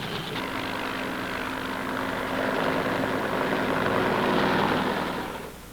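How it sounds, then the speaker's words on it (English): Steady droning rotor and engine noise from military helicopters overhead in the Vietnam War, swelling slightly louder toward the end before fading. "Fleets of helicopters lift men and artillery into the hills surrounding the base."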